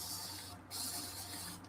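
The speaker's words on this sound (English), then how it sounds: "I need to spray this cup down with alcohol." Alcohol sprayed from a spray bottle into a mold cup used for casting oyster shells, a close, steady hissing spray with a brief gap partway through.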